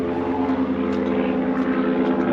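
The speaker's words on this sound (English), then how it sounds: "That's a really loud airplane" A loud propeller airplane passing overhead, a steady broad engine drone with a strong low hum that stays constant throughout, heard outdoors near a 2024 GMC Hummer EV.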